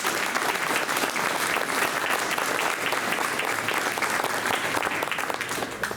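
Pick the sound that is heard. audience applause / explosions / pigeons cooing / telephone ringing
audience applause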